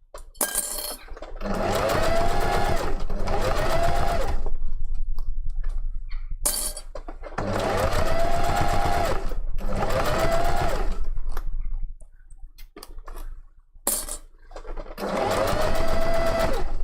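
Sewing machine stitching a fox tail for a kitsune fursuit, running in several long steady bursts with short pauses between them, loud and close, with no voices.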